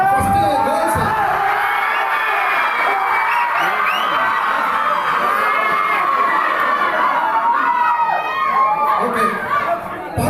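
A large crowd of college students at an engineering college event shouts, whoops and cheers continuously, loud and close, with overlapping voices and excited screams filling the space throughout.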